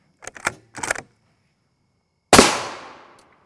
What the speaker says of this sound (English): We put the suppressor on our 300 Win Mag here, so we may gain a little more velocity.